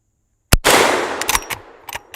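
Lever action rifle shots at targets on an outdoor shooting range: one sharp loud crack, then a longer blast with a decaying tail and a few quicker follow-up reports, close and alone.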